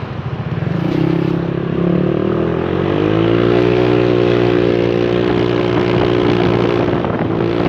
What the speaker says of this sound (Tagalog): Mas masarap talaga pagka may pipe, no, kaysa sa stock yung gamit mo. Na-enjoy mo yung throttle eh. Kada piga mo may tunog.